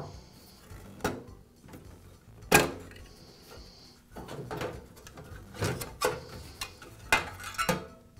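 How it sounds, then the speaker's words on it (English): Someone removes the nut securing the reflector and grill of a NuTone vent fan heater, producing scattered metallic clicks, taps and clunks at irregular intervals, with no one speaking. "I'll remove the nut that secures the reflector and the grill."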